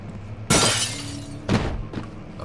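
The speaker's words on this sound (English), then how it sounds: "I probably need to break the glass" Glass shattering in the horror video game Amnesia, two loud sharp breaking crashes about a second apart followed by a fainter tinkle, with no talk.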